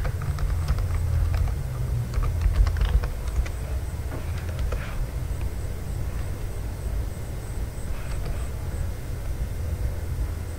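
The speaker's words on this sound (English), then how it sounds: "And now I can type anything" Typing on a computer keyboard while setting text in Photoshop, with scattered close key clicks and taps in short bursts over a steady low hum.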